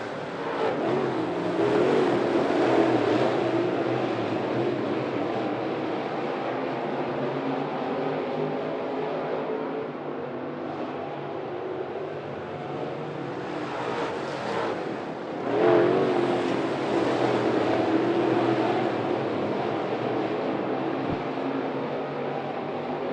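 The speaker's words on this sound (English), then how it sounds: "Brad Coffey showing the way out of turn number 2" NeSmith late model race cars circle 411 Motor Speedway, a continuous distant drone of several engines that swells and fades as the pack passes, with a louder surge near the middle.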